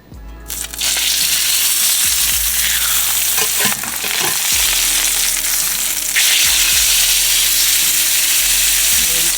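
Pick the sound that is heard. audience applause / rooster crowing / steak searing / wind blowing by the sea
steak searing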